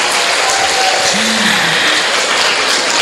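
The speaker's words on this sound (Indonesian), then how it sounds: "Tepuk tangan untuk kalian semuanya." An audience at a talk show gives a loud, continuous wash of applause that fills the room without pause, with a brief tonal sound briefly surfacing underneath.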